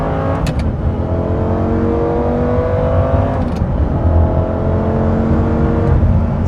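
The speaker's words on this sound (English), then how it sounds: "you have a 5-liter V10 engine, which sounds amazing" A 2004 Lamborghini Gallardo with a naturally aspirated 5-liter V10 and six-speed gated manual pulls away, its engine note rising through steady revs with a continuous loud drone and no voices.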